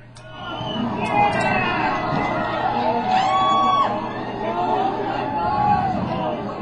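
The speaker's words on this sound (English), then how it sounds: "You hear the crowd." A crowd reacting during a total solar eclipse as the moon's shadow arrives: excited chatter, scattered whoops and cheers rising and falling throughout, with voices both near and further off.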